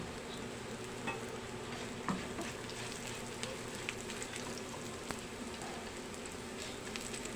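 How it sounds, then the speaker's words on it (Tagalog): Boneless dilis anchovies frying in oil with occasional stirring, a quiet steady sizzle with small scraping clicks scattered through. "Dahil kulang po ang mantika, dagdagan po natin ng mantika guys"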